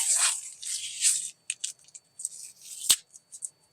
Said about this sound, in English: I'm going to tape my blade up.